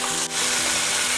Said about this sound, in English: Now put the pan on the flame and add some butter. Add a stick of rosemary and then we'll just add the roulades